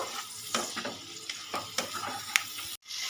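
Green beans with turmeric powder being stirred in a hot pan for a vegetarian mustard dish, with a soft sizzle under scattered scrapes and taps of a spatula against the pan, ending in a brief pause.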